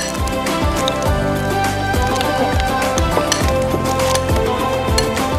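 Spiced kebab mixture being stirred and mixed in a bowl, with repeated scraping and clinking strokes of a utensil against the bowl in a steady rhythm, close and clear, with no talk.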